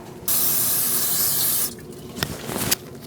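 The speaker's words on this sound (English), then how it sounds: "Use some brake pads cleaner" A can of brake cleaner sprays in one steady hiss of about a second and a half onto a Chevrolet Colorado front brake, followed by a few faint drips and clicks.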